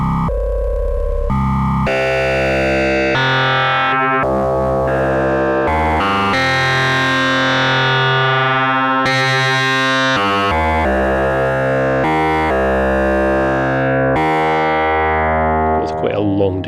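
Instruō Seashell synth module playing its lower oscillator sine through the wavefolder, a sequence of loud, bright, buzzy sustained tones that change pitch and timbre, some holding long, with brief gaps between notes.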